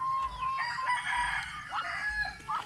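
A rooster crows and chickens cluck close by as a champion rooster and pullets are fed in the morning, with several overlapping crows and calls.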